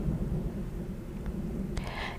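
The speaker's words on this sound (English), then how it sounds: "The lightning flashed, the thunder roared, the wind blew, and the rain poured down." Thunder rumbles low and steady through a storm with falling rain, and a brief crackle sounds near the end. It is a storm effect under a read-aloud story, with no voice during the rumble.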